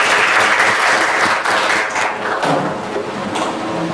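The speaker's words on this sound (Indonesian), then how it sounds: "tepuk tangan untuk kita semua" Loud, dense applause from a class of students in a school session, a steady wash of clapping close by that tapers slightly toward the end.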